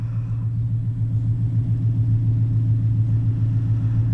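A twin-turbocharged car engine pushing about 650 wheel horsepower idles with a deep, steady rumble, loud and close, its low throb continuous for the whole stretch with no voices over it.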